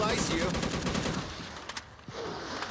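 Rapid automatic gunfire rattles in the game Unkilled while shooting at a boss, a dense burst of crackling shots that thins into a few scattered single bangs, moderately loud and close.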